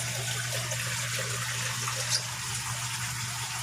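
Water runs steadily through a homemade pond filter built from an old refrigerator, flowing into a biochamber as a constant close splashing rush with a low hum beneath it.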